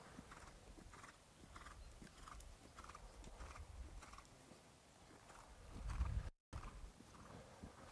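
A horse in a show-jumping lesson lands after a fence and canters away, its hooves clip-clopping in a regular rhythm, with a brief snort or whinny near the end, faint and without talk.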